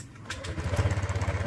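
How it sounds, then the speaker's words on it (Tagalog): A Honda Click scooter engine catches on the first try and settles straight into a quick, throbbing idle, close by and fairly quiet. "Start na po natin ang ating motor."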